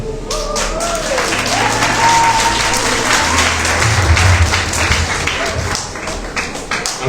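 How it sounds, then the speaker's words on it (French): Applause at a spiritual concert with an Adventist church choir, a loud, sustained wash of clapping from the crowd with a low hum and faint voices underneath. "Applaudis encore une fois, hein?"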